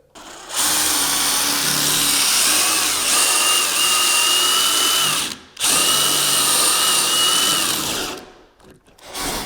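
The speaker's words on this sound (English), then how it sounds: "So what I need to do is I need to square out the dado right here, and to do that, we'll use a drill bit." A drill bores into wood to square out a dado in a barn door, giving a loud sustained high whine in two long bursts with a brief pause between, then it winds down.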